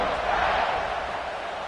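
A crowd in a college football video game gives a dense, continuous buzzing roar that stays steady and loud through the moment.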